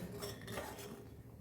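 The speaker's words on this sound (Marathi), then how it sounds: "छान असं हलवून घ्यायचं ढवळून." A spoon stirs heated milk in a metal pot for basundi, giving a faint, brief scrape and clink of utensil against the pot, heard alone and quiet.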